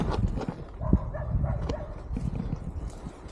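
A dog barks from down in a ravine on a mountainside in Peru, with a few sharp barks around the first second over steady outdoor rumble, then fainter movement and noise.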